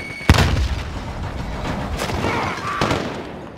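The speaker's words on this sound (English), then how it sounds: "Grenade out!" A grenade goes off in a Call of Duty Modern Warfare match with one sharp, loud blast early on, then a rumbling tail and scattered distant gunfire under background battle noise.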